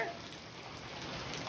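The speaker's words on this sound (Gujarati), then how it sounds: "વરસાદના તો બંધ થવાની ઈચ્છા જ નહીં." Steady rain falls on a rural Gujarati home and farm, a continuous even hiss of drops with no voices.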